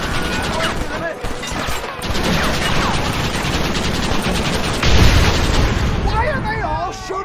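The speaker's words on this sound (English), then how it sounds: "Why are they all shooting at me?" Gunfire in the video game Red Dead Redemption: dense, continuous rapid shots and bursts crowding together, loud and close, with shouting voices and music woven through the barrage.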